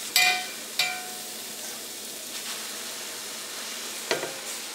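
Boiled noodles sizzle softly in a pan with vegetables as they are stir-fried and mixed, a steady low hiss broken by a few sharp clinks of a utensil.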